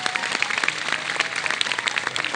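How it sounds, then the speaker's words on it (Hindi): An audience applauds a guest at a talk event, with steady dense clapping and sharper individual claps standing out throughout. "बहुत सारी तालियां डॉक्टर साहब करिए"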